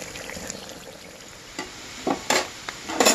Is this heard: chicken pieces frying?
yes